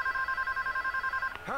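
A telephone in the Scarface: The World Is Yours PS2 game rings in a steady rapid electronic trill for over a second, then cuts off as a voice begins to speak.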